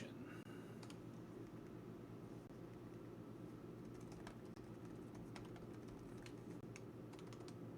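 Steady, fairly fast typing on a computer keyboard, a continuous run of soft, close key clicks over faint room hiss and fan noise.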